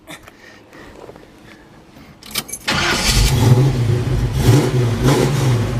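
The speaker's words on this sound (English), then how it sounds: "I'm gonna fire this one up for you." A quiet stretch with faint clicks, then the V8 engine of a 1971 Chevrolet Chevelle hardtop with 2.5-inch exhaust cranks and roars to life, revving loudly and rumbling steadily close by.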